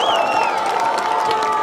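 Crowd at a high school football game between Wild Rose and Newman Catholic cheering loudly after an extra point, a dense continuous roar with whoops and shouts rising over it.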